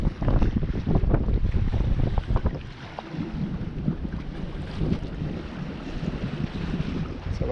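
A sailboat under sail off Elba, its hull rushing through the water with steady wind buffeting the microphone and splashing waves throughout, loud and close with no talking.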